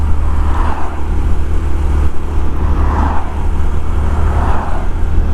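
A Honda CT125 motorcycle labors up a hill in second gear, its engine droning steadily and loud with a rhythmic swell in pitch as it pulls, no voices over it.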